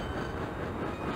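A train rumbling past in Klonoa 2, a dense continuous roar with faint rhythmic rattling, loud and close throughout the short moment.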